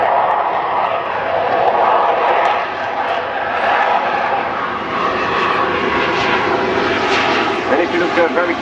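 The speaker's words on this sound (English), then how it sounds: "The altitude is totally maintained by the power settings Stitch is currently doing with his left hand, where the throttle in the F-16 is positioned." An F-16 fighter jet in slow flight at an air show gives a loud, steady roar of jet engine noise that swells and eases slightly throughout, with a commentator talking over it.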